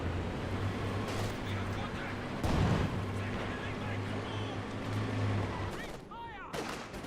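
An artillery shell strikes an MG42 machine-gun position in the World War II strategy game Company of Heroes 2, a single heavy blast landing midway through a steady rumble of distant battle noise and gunfire.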